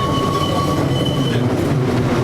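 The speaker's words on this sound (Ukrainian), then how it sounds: "ми з вами в трамвайному вагоні е, зразка 1892 року" A restored retro tram in Kyiv, rebuilt in 1992 to an 1892 design, rumbles steadily along its rails with a continuous low roar, faint wheel squeal and rail clatter, and no voices.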